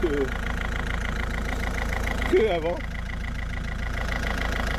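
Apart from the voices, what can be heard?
car engine idling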